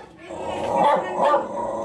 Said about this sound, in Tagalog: Hindi ka nakilala ng aso eh.